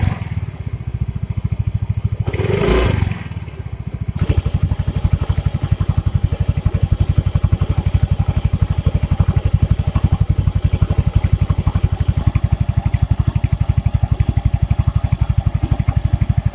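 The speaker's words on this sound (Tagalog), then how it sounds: "Kapag nawala na yung ilaw, tsaka nyo pindutin yung starter button." A 2021 Honda Mio i 125 scooter cranks with a short whirring starter burst, then catches and settles into a steady, close, even idle with a rapid regular putter that runs unbroken to the end.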